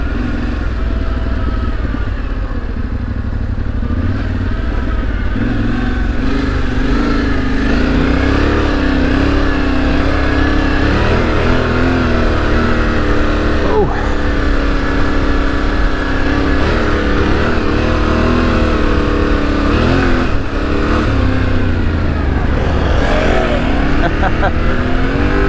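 A 2025 Yamaha Tenere 700 motorcycle engine drones continuously while riding through soft beach sand on a large sand island, loud and close with varying revs, and a rider talks over it throughout.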